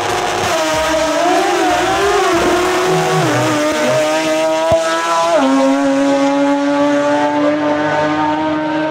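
Race cars roaring at full throttle at Salinas Speedway, with loud continuous engine drone, rising and shifting pitch as they accelerate, and a brief tire squeal; no talking.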